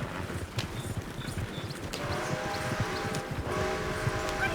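Horse hooves clip-clop at a steady walking pace in the western video game Red Dead Redemption 2, close and moderately loud over outdoor ambience and faint game music.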